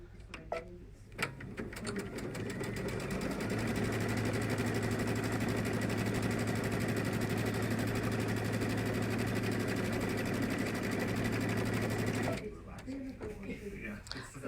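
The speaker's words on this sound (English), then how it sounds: "we're just going to stitch both of these down using a regular straight stitch" A sewing machine runs a regular straight stitch in one long continuous whirring burst, close and steady for about ten seconds, with a mechanical ticking start and a constant low hum.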